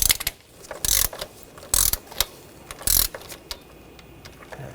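Ratchet wrench clicking as valve cover bolts are torqued on a 2.5L 2014-2020 Nissan Rogue, with several loud bursts of rapid ratcheting separated by pauses and lighter clicks, close up with no talking.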